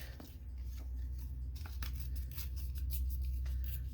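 Paper being torn slowly by hand around a printed figure, with soft intermittent ripping and crinkling over a steady low hum, close and fairly quiet.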